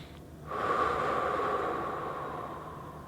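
Slow, deep breathing during a yoga stretch, a steady airy exhale that swells after a brief quiet start and holds for several seconds, close and alone.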